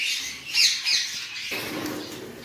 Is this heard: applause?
no